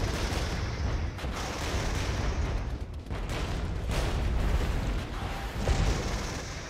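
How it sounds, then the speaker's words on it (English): Artillery fire in the Regiments war game: a steady rumble of distant, overlapping booms and blasts with no break, rising and falling slightly in loudness, with no talk over it. "artillery."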